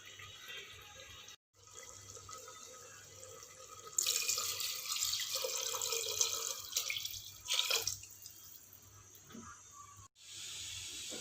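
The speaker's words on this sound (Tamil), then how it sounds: "நான் 2 டம்ளர் அரிசி சேர்த்துருக்கனால 4 டம்ளர் தண்ணி ஊற்றிக்கிறேன்." Water pours into a cooking pot for brinjal biryani, a steady splashing hiss from a tap or vessel that swells loudly in the middle of the pour, with a few brief pauses and no talk over it.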